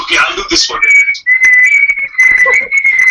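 After a moment of talk, a whistle is blown in long, shrill, sustained blasts with short breaks, loud and close, while voices murmur faintly underneath.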